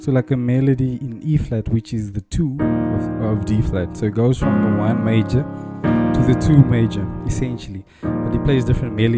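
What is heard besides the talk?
No everyday noises stand out.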